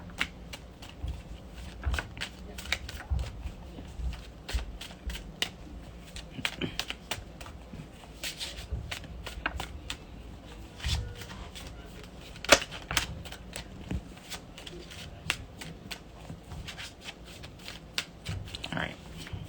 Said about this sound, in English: So let me shuffle for another second.